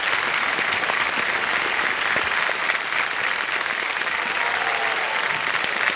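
Studio audience applause on a televised quiz show after a contestant wins a prize, loud, dense and continuous clapping filling the room without a break.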